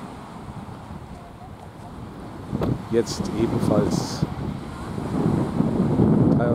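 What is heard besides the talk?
wind at the sea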